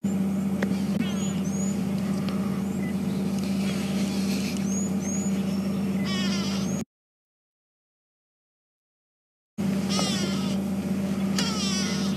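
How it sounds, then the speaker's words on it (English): Harsh, repeated go-away bird alarm calls ring out near lions on a kill on safari, over a constant low engine hum, cut off by a few seconds of silence before the calling resumes. "go-away birds are now starting to alarm. You can hear that."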